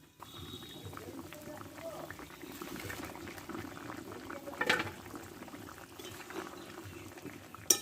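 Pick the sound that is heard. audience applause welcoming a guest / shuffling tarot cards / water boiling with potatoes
water boiling with potatoes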